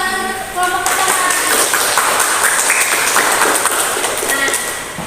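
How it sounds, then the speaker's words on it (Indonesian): Applause from a classroom audience for the first presentation group, a loud, dense wash of clapping that swells quickly and holds steady for several seconds before tapering off. "Berikan tepuk tangan untuk kelompok pertama."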